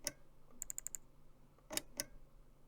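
A safe combination dial turns in the Mystery of the Druids video game, giving scattered sharp mechanical clicks: a single tick, a quick run of five even clicks, then two louder separate clicks, close and alone with no talk.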